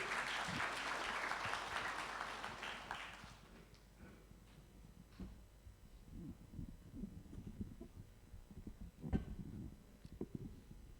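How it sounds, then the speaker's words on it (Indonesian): Audience applause at a gathering of Indonesian museum associations, loud and sustained for the first three seconds and then fading into scattered room noise and a few soft thumps. "Boleh tepuk tangan sekali lagi hadirin?"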